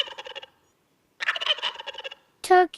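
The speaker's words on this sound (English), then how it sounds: "turkey," A turkey gobbles loudly and close in three rapid, rattling bursts separated by short silences, the last one sharper and higher.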